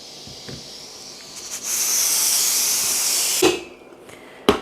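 Water heats in a cooking pot for borlotti beans, giving a steady, loud hiss of steam for about two seconds, with a few sharp clicks before and after.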